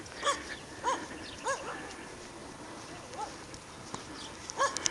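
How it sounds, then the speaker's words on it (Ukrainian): Several dogs bark in short, separated yelps and barks, some moderately distant, scattered over a quiet outdoor background. "Далі мене зустрічає гавкіт собак."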